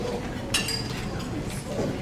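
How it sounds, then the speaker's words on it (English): At a wedding reception toast, glasses clink in a few short bright chinks amid a murmur of guests talking. "he would like to have everyone right now tip their glasses in a toast to the"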